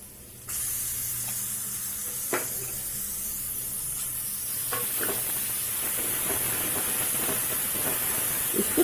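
Golden-brown onion frying in oil with ginger garlic paste added, a loud steady sizzle and hiss starting suddenly and continuing, with faint clinks of stirring, close and without voices.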